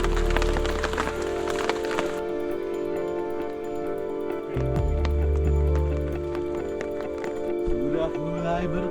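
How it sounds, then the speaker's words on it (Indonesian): Steady rain patters and drips along a mountain trail on Batukaru, a dense crackling wash with scattered louder drops and low rumbling bursts midway, no voices. "Walaupun hujan belum terlalu reda"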